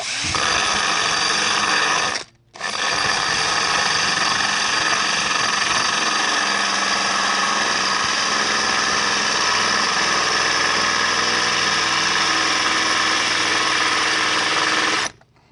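A power tool with a carbide grit cutter cuts a hole in wet tile, a loud steady grinding whine running continuously with one brief pause near the start.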